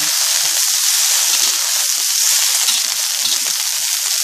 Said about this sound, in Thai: เขาจะผัดใส่น้ำมันหอยเขาเจียวกระเทียม